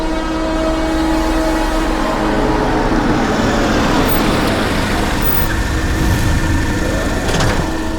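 A car engine runs steadily with a low rumble and humming tones, loud and constant throughout, with some faint shifting noise late on and no talk.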